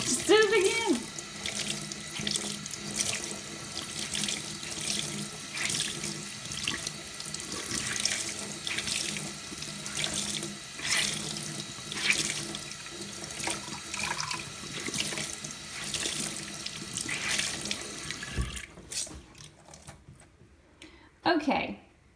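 Cold tap water runs steadily into a sink while a beauty blender sponge is rinsed under it, a continuous splashing stream at close range with a few squeezing sounds, cutting off near the end.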